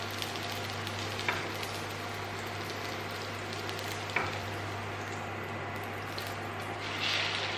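Chicken shami kababs frying in a pan give a steady, fairly quiet crackling sizzle like light rain, with a couple of faint taps as they are turned.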